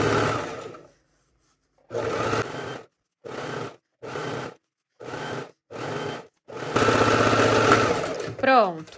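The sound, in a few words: sewing machine stitching a straight seam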